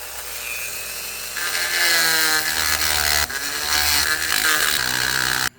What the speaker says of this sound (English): Okay, just got that ground off.